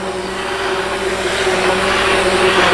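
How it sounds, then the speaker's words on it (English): An immersion blender whirs steadily while puréeing hot butternut squash soup made in a pressure cooker, a loud continuous motor drone with a churning, liquid wash that builds slightly in intensity throughout. "Put the immersion blender to work."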